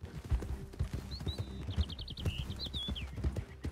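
Horse hooves in Red Dead Redemption 2 clop in an uneven rhythm at close range, with a high whinny rising above them midway. The sound is moderately quiet overall.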